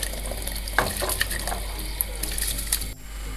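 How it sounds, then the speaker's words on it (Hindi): Rice being poured into a pot of boiling water for chicken tikka pulao, a soft rushing patter and bubbling hiss over a steady low hum from the stove, close up with small clinks. "अब मैं इसमें चावल शामिल करने लगी हूँ"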